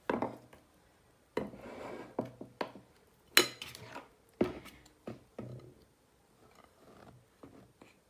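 Dry nankhatai ingredients — besan, baking powder, baking soda, almonds and cardamom powder — stirred together in a bowl, giving a run of intermittent scraping and tapping strokes with short pauses, close and fairly quiet.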